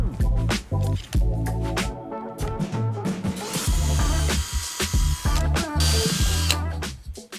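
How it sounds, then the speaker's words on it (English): A power drill bores 4mm holes through three wooden boards lined up together for threaded rods to pass through. The whir is loud and close, with repeated bursts, pauses and motor changes as the bit cuts and pulls out. "drilled 2 4mm holes for the threaded rods to pass through"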